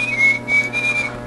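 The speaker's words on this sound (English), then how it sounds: "Whistle." A whistle sound effect from a Nintendo DSi plays as one steady, high, pure tone lasting just over a second. It is clear and alone, with a faint low hum underneath.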